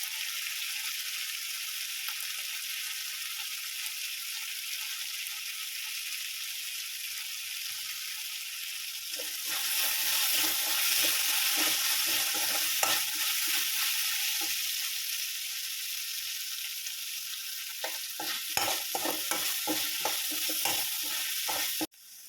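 Curry leaves fry and sizzle in hot oil in a pan for a sausage roast, a steady close hiss that grows louder midway with crackling bursts and stirring scrapes.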